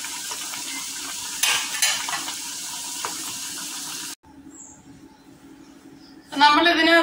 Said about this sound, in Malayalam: ബാക്കിയുള്ള പൊട്ടറ്റോസും കൂടെ വറക്കുകയും ചെയ്യാം